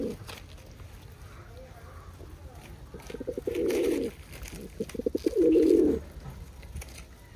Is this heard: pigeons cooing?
yes